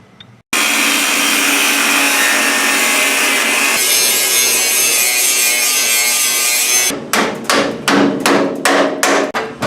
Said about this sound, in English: So I'm going to go ahead and cut the bottom off of that